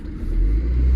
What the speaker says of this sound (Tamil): இப்போ வண்டியை நான் ட்ரைவ் பண்ணி காட்டுறேன் பாருங்கள்.